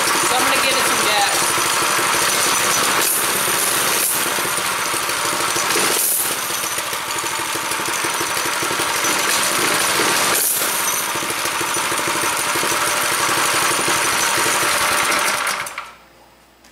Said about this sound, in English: when I give it gas, it's going to allow this to engage and spin the whole cart going forward